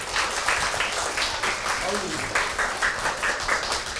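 A room of primary school children applauds their classmates after a drama activity, a moderate patter of clapping with speech and voices mixed in.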